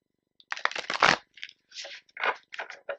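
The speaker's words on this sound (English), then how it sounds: "Okay, one more shuffle." A deck of playing cards shuffled on a lap, giving a run of close riffling bursts and soft crisp flutters with short pauses between them.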